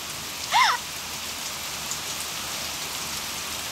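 Rain falls outside in a constant soft hiss of drops, briefly overlaid by a short high chirping sound early on, then continuing evenly to the end.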